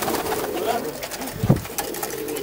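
A prized racing pigeon hen coos softly in a pigeon-keeping setting, with a low throaty coo near the middle of the stretch amid background voices and ambient noise.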